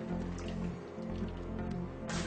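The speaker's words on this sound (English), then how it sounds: "And then pour it in the saucepan." A whisked egg mixture is poured into a saucepan, giving a continuous soft liquid pour with gentle glugging and splatter, close and steady over a low background hum.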